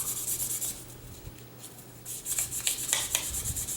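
Sandpaper rubbing against wooden pen barrels in quick back-and-forth strokes, a close, quiet, gritty hiss that swells and fades, with no voices.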